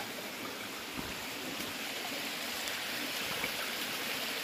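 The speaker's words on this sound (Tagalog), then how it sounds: "Sapa lang to sa amin." A small creek flows through a forest, giving a steady, moderately faint rushing and trickling wash that holds without pause.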